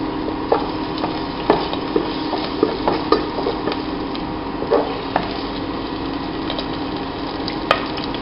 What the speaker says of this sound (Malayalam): വെളിച്ചെണ്ണ ചൂടാകുമ്പോൾ ഇഞ്ചി ഒരു കഷ്ണം ചെറുതാക്കി അരിഞ്ഞതിടുക